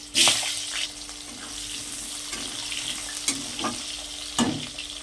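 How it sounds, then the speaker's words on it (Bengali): Cumin seeds and potatoes hitting hot oil left from frying fish, giving a crackling sizzle with a few louder spatters and stirring clinks at close range. "এবারে মাছ ভাজা তেলের মধ্যেই দিয়ে দেবো 1 চামচ, এই ছোটো চামচে 1 চামচ জিরে ফোড়ন দিয়ে দিলাম।"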